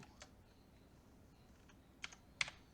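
Keystrokes on a computer keyboard while code is typed, a few sparse, faint clicks at first, then two sharper clustered taps near the end, alone in a quiet room.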